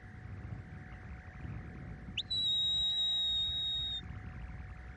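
A sheepdog handler blows a single long, drawn-out whistle command, a clear, steady high tone that rises sharply at the start and holds for about two seconds over quiet outdoor background.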